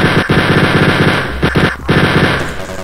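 Rapid automatic chain gun fire in the Wolfenstein 3D video game, a loud continuous rattling burst with a couple of brief gaps, mixed over steady game background sound.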